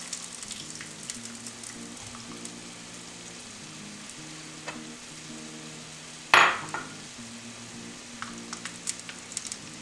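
Celery and garlic frying in a pan, giving a steady, moderate sizzle under quiet background music, with one sharp clatter about two-thirds of the way through.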